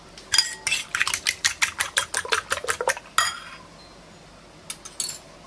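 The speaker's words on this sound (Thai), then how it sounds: "ตีไข่ให้เข้ากันนะคะ" Whisk beating eggs in a bowl, a rapid run of sharp rhythmic clinks against the bowl, then a pause and a few final taps, close and clear with no talk.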